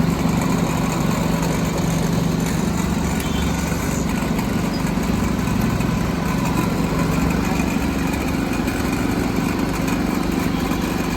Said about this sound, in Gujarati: જો ચાલુ થઈ ગયું છે મશીન અને જો હવે કેવો બનાવે છે અંદર શેરડીનો રસ